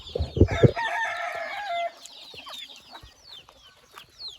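Native country hens cluck in a few loud, close bursts, followed by a drawn-out crowing call and then softer scattered clucks and chirps from the flock on a farm.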